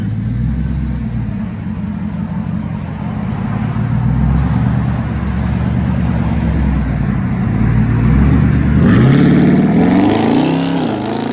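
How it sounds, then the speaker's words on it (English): A 2022 Dodge Durango SRT with a 6.4L HEMI V8 on fully straight-piped exhaust rumbles loudly at a deep, choppy idle, then rises in a sharp rev near the end. "Durango SRT. Fully straight pipe. 2022."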